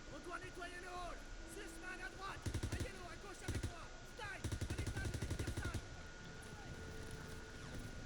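In Call of Duty WWII, played on veteran mode during a tank battle, rapid automatic gunfire rattles in two clear bursts among scattered shots and background battle noise, with a voice speaking over it.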